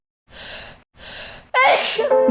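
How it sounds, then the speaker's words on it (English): A loud, sharp sneeze bursts out after two soft breathy inhales, close and abrupt, with no talking. "Because people sneeze."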